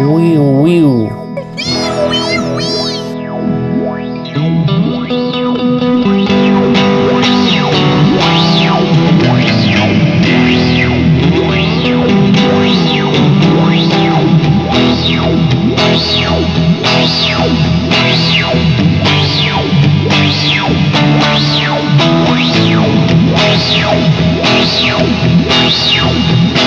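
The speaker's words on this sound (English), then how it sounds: "Switch to the old filter sweep." Electric guitar played through an Old Blood Noise Procession pedal in filter sweep mode, loud distorted chords with a rhythmic sweeping wah-like warble repeating steadily throughout, preceded by a brief clean opening.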